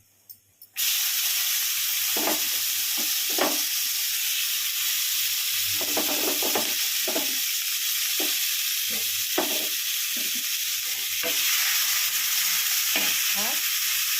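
Whole spices such as bay leaf, cardamom, clove and cinnamon, followed by onion, fry in oil already used for frying fish. A steady, close sizzle runs throughout, broken by repeated scraping stirs of a spatula in the pan.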